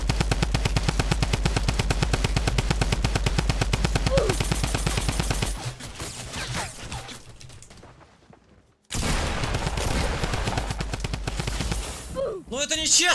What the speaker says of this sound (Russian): мне в спину чел стрелять начал